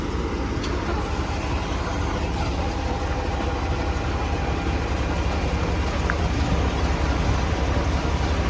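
A 1985 Mercedes 500SEC Euro coupe idles roughly with a possible idle fault, giving a steady, loud low engine rumble with no speech.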